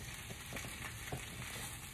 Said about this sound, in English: So as you can see, we're sauteing real nice.